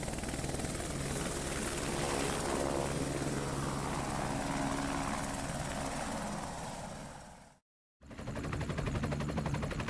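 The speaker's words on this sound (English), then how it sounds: "The helicopter settled onto the landing pad of Malcolm's facility" A helicopter sets down on a facility landing pad amid sand and heat, its rotor chop and turbine whine loud and close. The noise holds steady, cuts out abruptly for a moment, then resumes.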